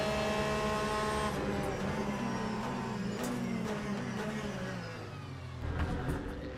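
Damaged Porsche race car in the Le Mans Ultimate sim, its engine droning loudly with a rising and falling harmonic whine through gear changes, settling lower then revving again near the end.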